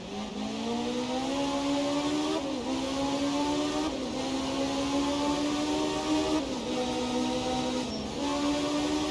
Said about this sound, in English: Car feels like it's struggling to pull a little bit in 5th gear.